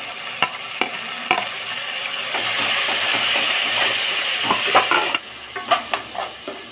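Tomatoes sizzling and frying with onions and curry leaves in a pan for a cauliflower and chana dal curry, with steady sizzle, a few stirring clatters early and late, and a louder continuous frying hiss through the middle.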